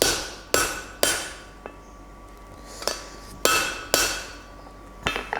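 A blacksmith's hammer taps a rivet snap on an anvil, giving about eight sharp, ringing metallic strikes at irregular intervals, with a faint high tone lingering between blows.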